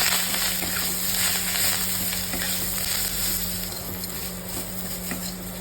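Jute leaves with turmeric frying and being stirred in a pan: a loud, continuous close sizzle with faint scraping mixed in.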